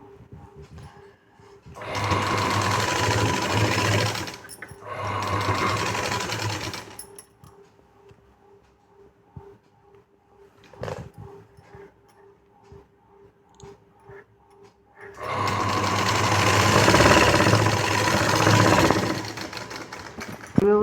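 An electric sewing machine stitches a puff sleeve in two rapid whirring runs, then a longer third run after a quiet stretch with faint handling clicks, loud and close.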